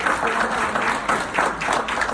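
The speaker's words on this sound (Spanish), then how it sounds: "quisiera darles un gran aplauso a los amigos de Park Square Home" An audience applauds guests from Park Square Home at a home-buying seminar in Orlando, a steady, dense wash of many hands clapping throughout with slight swells, no voices over it.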